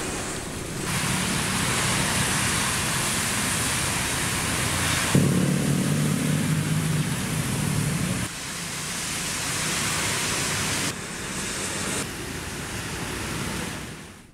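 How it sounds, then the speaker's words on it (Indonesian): Heavy rain pours over traffic on the Cipularang toll road near kilometre 76 at Sadang, Purwakarta, a dense, unbroken roar of rain and passing vehicles that shifts in level a few times, with no talking. "Pemudik diimbau lebih berhati-hati karena hujan deras terus mengguyur kawasan ini."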